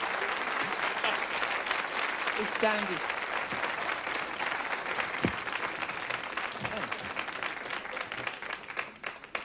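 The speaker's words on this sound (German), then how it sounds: "Einen herzlichen Applaus für meinen Partner." Applause from a 1981 German television studio audience fills the stretch steadily and close, a dense clatter of clapping throughout, with a man's brief spoken thanks heard over it.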